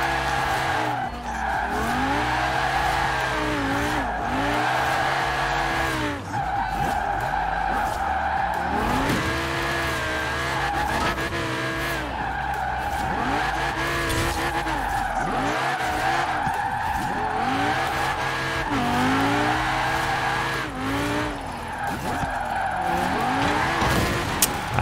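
A Lamborghini Huracan fitted with a drift bodykit slides through corners in Forza Horizon 4, its loud engine roaring and revving nonstop over long, wavering tire squeals.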